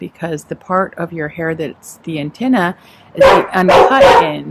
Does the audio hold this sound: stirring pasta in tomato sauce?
no